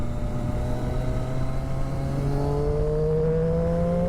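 A ten-year-old Triumph Daytona 675 sport motorcycle revs hard on the road, its engine note climbing steadily in pitch under constant loud wind and road rush, with no talking.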